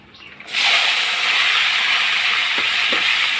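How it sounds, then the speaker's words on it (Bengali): Fried vegetables poured into a hot pan with black cumin seeds: after a quiet half second a loud sizzling hiss erupts and holds steady, with a couple of faint utensil knocks near the end. "ভাজাগুলো ঢেলে দেবো"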